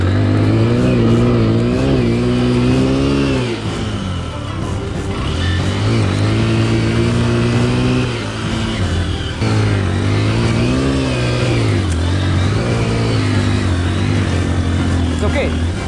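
Small Honda XR150L dual-sport motorcycles rev hard while working through mud, their engines rising and falling repeatedly close by, with voices heard over the engine noise.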